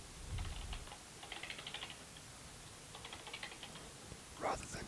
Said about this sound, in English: I'm going to type out what I read